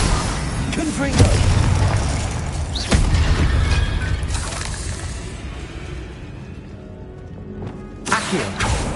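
Confringo fire spells exploding in Hogwarts Legacy, several booming blasts and bursts scattered across the scene with game effects and a voice speaking in between.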